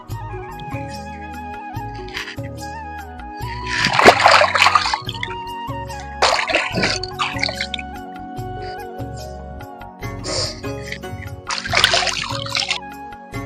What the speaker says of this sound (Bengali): ভালো করে মাছটা ধুবো